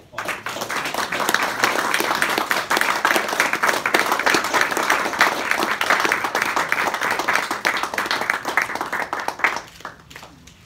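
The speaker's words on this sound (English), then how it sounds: "another round of applause" Sustained applause from an audience at a U.S. Congress award ceremony held by the Victims of Communism Memorial Foundation, dense clapping filling the room for about ten seconds before tapering off at the end.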